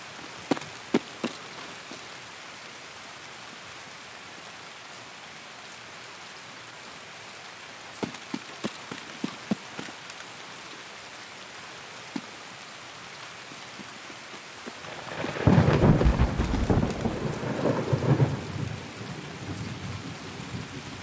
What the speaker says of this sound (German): der Regen ist doller geworden